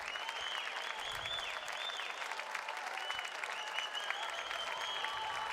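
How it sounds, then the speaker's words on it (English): A crowd at a high school state swimming championship cheers and claps steadily, the sustained roar and whistles staying constant throughout, with a few muffled voices underneath. "Crowd's getting louder"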